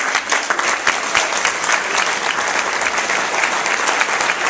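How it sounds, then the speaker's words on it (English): Wedding guests applaud a speech at a wedding reception, a dense, steady burst of clapping that fills the whole stretch at a fairly loud, even level. "Let's have a round of applause for wonderful words."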